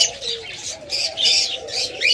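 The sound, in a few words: birds for sale calling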